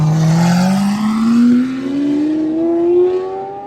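A low-slung Lamborghini engine drones and climbs steadily in pitch as the car creeps up 12-foot trailer ramps, loud and close, a single sustained rev rising over several seconds.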